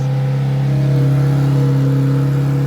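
A Mitsubishi Evo 8 engine runs steadily close by after starting, a loud, even idle hum with a slight rise in revs partway through.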